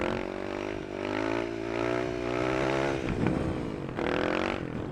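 Supermoto motorcycle engine revving hard and steadily through a wheelie attempt, loud and close with rising and falling pitch, a rough scraping burst near the end before the engine climbs again.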